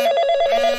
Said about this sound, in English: That was Wen Willowbrook calling on the phone.